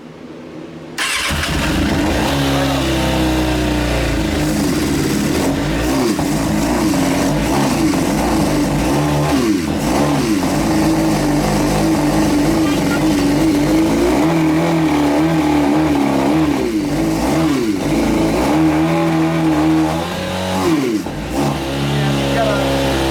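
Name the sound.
motorcycle engine running with unsynced carbs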